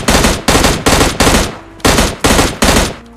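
Seven loud shotgun blasts from a mobile battle-royale shooting game, each a sharp close boom with a short decay, fired in quick succession with one brief pause midway, no voices.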